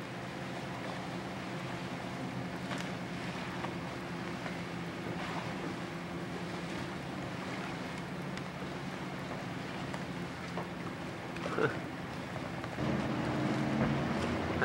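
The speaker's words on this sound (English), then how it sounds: "Dad and Dan out playing on the boat" A motorboat runs on a lake with a steady, distant drone under wind noise and water wash, and the level swells slightly near the end.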